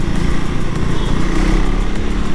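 A 2024 third-generation KTM Duke 390 motorcycle engine drones steadily and loudly while being ridden, with a continuous buzzing rumble and no pauses.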